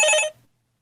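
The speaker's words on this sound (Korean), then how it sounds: "전화가 와서" A telephone bell rings in a classroom, one short, bright electronic ring burst that cuts off abruptly and leaves silence.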